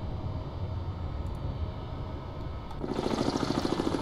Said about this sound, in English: that's a helicopter with a dipping sonar